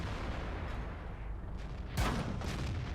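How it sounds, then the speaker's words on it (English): Tank shell deflecting off armor in World of Tanks, playing an SU-100M1 tank destroyer, a sharp metallic impact burst standing out near the end over a constant rumble of engine and battle noise. "I take a hit there, but you can see I bounce the shot on my armor"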